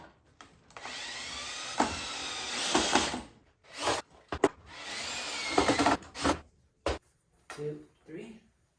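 A power drill bores pocket holes into wood in several bursts of whining spin, each stopping abruptly, with short quiet gaps in between. It sounds close by and fairly loud.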